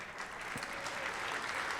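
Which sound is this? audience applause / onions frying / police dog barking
audience applause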